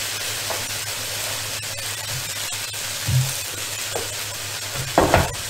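Mamak-style mee goreng noodles sizzle loudly in hot oil in a pan, a dense continuous frying hiss with occasional scraping knocks as they are stirred around.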